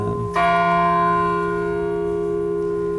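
A church bell strikes once, loud and near, its tone ringing on and slowly fading with no other sound.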